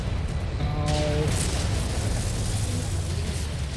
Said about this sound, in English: Oh no, ammo explosion.